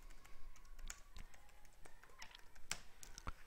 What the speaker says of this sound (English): So now let us give the administrator password.